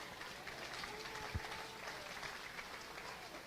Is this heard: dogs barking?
no